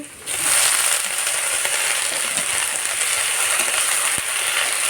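Lafa greens and onions start sizzling loudly in a hot pan, a steady close hiss that carries on without a break.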